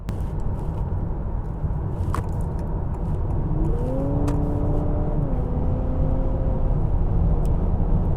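A 2023 Honda Accord Hybrid Sport accelerates with a steady broadband road and engine roar, joined midway by a rising whine that levels off and fades, heard from inside with no talking.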